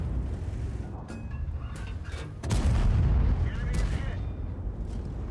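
Tank cannon fire in a video game with APCR rounds: a heavy boom near the midpoint, with rumbling battle noise and smaller shots around it, while a voice talks throughout.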